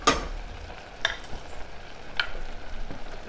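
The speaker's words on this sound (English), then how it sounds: "let's throw our fish in" Shrimp and scallops drop into a hot pan, bursting into crackling sizzles with a few sharp splatters and stirring scrapes, steady and close with no talking.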